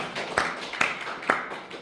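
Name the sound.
congregation clapping in praise to God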